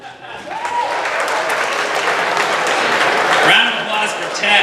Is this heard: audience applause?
yes